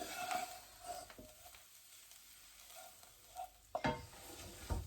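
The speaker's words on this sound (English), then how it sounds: "You've got to make sure you keep stirring it so that it doesn't stick to the bottom of the pan" Katsu curry sauce stirred in a pan, a quiet simmering sizzle with soft scraping strokes that rise to a couple of louder spoon scrapes near the end, no one speaking.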